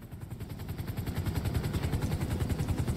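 A helicopter in the GTA Online video game thumps with fast, steady rotor beats over a constant engine whine, loud and close for the whole stretch, with no talking.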